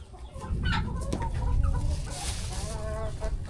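Turkeys on a rural Philippine farm, including a skittish hen and a white one, give clucking, gobbling calls over a steady low rumble of farmyard background, with a few sharper bird calls rising midway.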